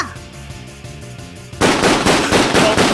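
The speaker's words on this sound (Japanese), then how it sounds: "発砲したぞ。" Sustained rapid automatic gunfire in a tense audio drama standoff near a helicopter, bursting in loud and dense halfway through after a quieter stretch, continuing as rapid rattling volleys to the end.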